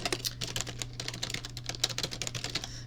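Rapid, uneven keystrokes on a computer keyboard, close and fairly quiet, clattering continuously without pause.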